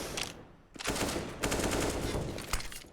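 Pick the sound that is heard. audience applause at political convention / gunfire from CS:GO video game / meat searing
gunfire from CS:GO video game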